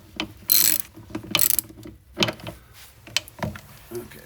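A ratchet with a 14 mm socket on several stacked extensions undoes a bolt on a Ford Escape shifter cable, giving quick bursts of clicking pawl and sharp metallic turns, close and uneven.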